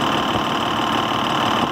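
A Cummins ISL 400 diesel engine in a Volkswagen Constellation 26390 truck runs steadily, a loud, close, continuous rumble with a rough knocking texture and no voices.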